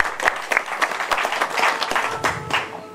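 Congregation applauding at a church wedding in Lyon, France, steady crowd clapping filling the space for about three seconds with no talk over it.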